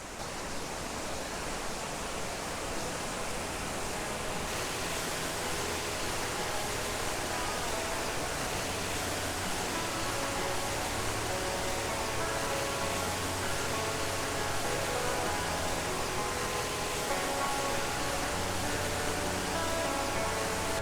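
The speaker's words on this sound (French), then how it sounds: "j'ai la cascade et le canyon des Écouges face à moi" The waterfall in the Écouges canyon in the Vercors roars steadily, a constant broadband rush of falling water, close and unbroken throughout.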